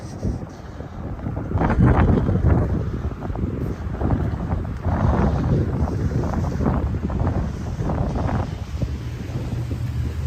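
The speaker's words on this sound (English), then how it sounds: "The wind's fairly sharp." Sharp winter wind buffets the microphone during an outdoor walk along College Avenue in Regina in December, a steady, loud rumbling roar with gusty swells and no talking.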